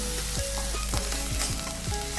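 Onion with tomato and cashew paste sizzles steadily while sautéing in butter in a pan, a close, continuous frying hiss with light stirring scrapes, no voices.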